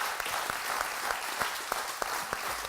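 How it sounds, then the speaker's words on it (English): Applause from an audience at a Startup Grind startup event in Bali, a steady patter of many hands clapping with distinct claps popping out, moderately quiet and sustained without voices. "And can we please give John Stewart a big round of applause?"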